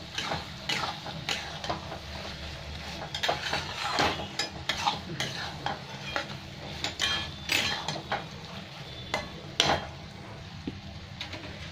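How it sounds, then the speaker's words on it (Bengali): Ridge gourd and potato cooking with poppy seed paste in a pan, stirred with repeated metallic scrapes and clinks over a light sizzle, close up and with no one speaking. "অল্প একটু জল আছে, এটা নাড়তে নাড়তে শুকিয়ে যাবে একদম"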